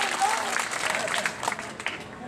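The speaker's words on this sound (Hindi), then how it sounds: "आप सब एक बार तालियों से उसका स्वागत करें" A crowd at a political gathering claps to welcome a politician, a dense burst of applause close by that gradually thins out.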